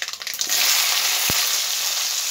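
Jujubes sizzle and fry steadily in hot oil with five-spice seeds for an Assamese-style sweet pickle, a dense, close crackling hiss that swells after a brief start and carries one sharp knock partway through.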